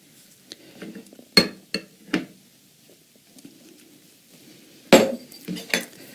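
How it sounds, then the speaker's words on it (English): A utensil clinks and scrapes against a bowl while tomato sauce, tomato paste, oregano, paprika and garlic powder are mixed for a vegan pizza, giving sharp irregular taps between quiet soft stirring. "So I'm going to go ahead and mix these together."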